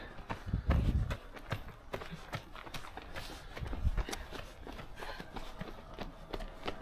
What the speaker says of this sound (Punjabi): ਸਕੂਲ ਦੇ ਬੱਚੇ ਭੱਜੇ ਫਿਰ ਰਹੇ